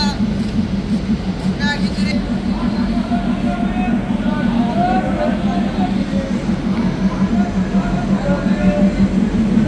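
Padma Express passenger train running in late afternoon, a steady loud rumble of wheels and carriage noise throughout, with talk faintly mixed in.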